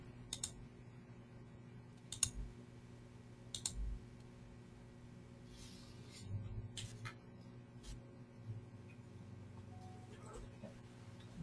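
Faint, scattered single mouse clicks during a software demonstration, spaced a few seconds apart over a steady low electrical hum.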